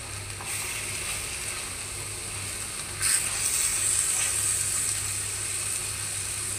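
Red amaranth greens cook with eggplant in a pan, giving a steady, close hiss of frying that stays even and swells slightly partway through, with no talking.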